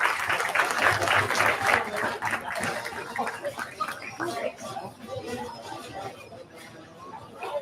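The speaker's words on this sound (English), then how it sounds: "Give them a round of applause here." Applause at a post-season awards show in Las Vegas, strongest at the start and then thinning, with crowd chatter, chuckles and a voice continuing over the tail of the clapping.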